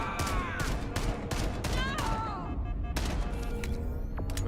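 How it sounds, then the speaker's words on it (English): Rapid video-game gunfire as a full magazine is emptied, dense bursts of shots with clattering impacts and in-game voices over a constant loud roar, with a brief lull midway before firing resumes. "I'm gonna empty the magazine."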